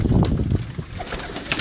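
Pigeons kept for flying contests coo in a loft, low throaty calls rising and falling continuously at close range with some shuffling and wing movement, no talking.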